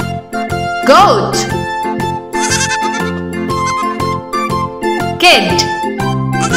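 A young goat kid bleats in quick wavering cries, three bursts rising above a cheerful children's song that plays underneath throughout.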